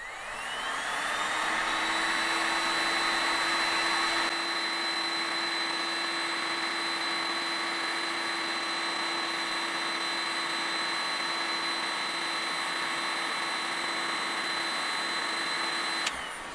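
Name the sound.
Ingco cordless and corded heat guns running at highest setting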